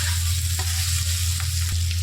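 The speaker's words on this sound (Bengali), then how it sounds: "1 মিনিট মতো আমি ক্যাপসিকামটা ভেজে নিচ্ছি" Capsicum frying in a pan, a steady close sizzle over a constant low hum, with a couple of faint stirring taps, brief and unbroken.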